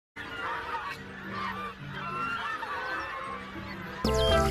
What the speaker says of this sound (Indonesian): ternyata di sini ada bebek angsa